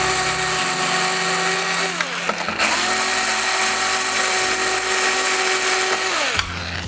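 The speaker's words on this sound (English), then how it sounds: "I'm gonna use my power tool instead to speed up the process" A power tool whirs loudly, driving out M4 screws from a Flowcine Tranquilizer camera stabilizer, with brief pitch drops and pauses between screws.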